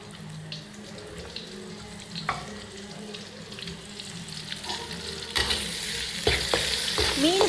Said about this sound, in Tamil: வெங்காயத்தை எடுத்து முதல் வறுக்கணும்